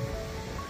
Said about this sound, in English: The waves are immense further along